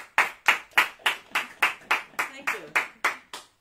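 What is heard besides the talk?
applause for singer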